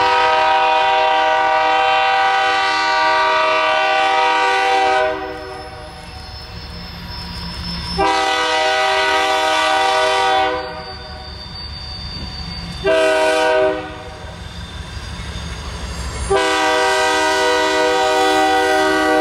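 A Norfolk Southern freight train led by a single BNSF locomotive takes a wye. Its horn sounds loud and close in several long, sustained blasts with short gaps, over a constant rumble of the train.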